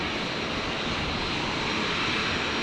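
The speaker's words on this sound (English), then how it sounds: "Jetstar 570 coming in from Melbourne" A Jetstar airliner arriving from Melbourne at Brisbane Airport gives a steady, loud broadband engine roar throughout, with no voices.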